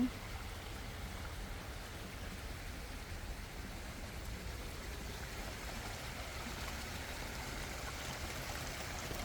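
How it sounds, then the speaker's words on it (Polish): A small garden waterfall at Deep Cut Gardens in Middletown, New Jersey, giving a steady, soft, even rush of falling water with no other sounds. "Taki mały wodospadzik."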